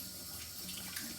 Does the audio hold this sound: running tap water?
yes